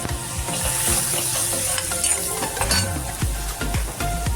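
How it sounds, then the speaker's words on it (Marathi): Finely chopped onion frying in oil in a pan, with a steady close sizzle and repeated scraping strokes of stirring, and no one speaking. "नंतर आपला कांदा बारीक चिरलेला कांदा टाका बारीक चिरलेला कांदा"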